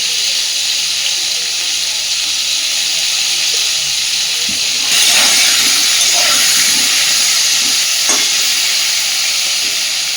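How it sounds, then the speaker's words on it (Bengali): Pointed gourd pieces frying in hot oil with turmeric and salt, a steady loud hiss and sizzle throughout that swells brighter partway through, with faint scraping stirs close by. "পটলগুলোকে আগে সুন্দরভাবে ভেজে নেবে"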